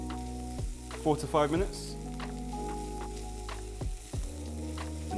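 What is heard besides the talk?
onion, garlic, ginger and chili frying in a pan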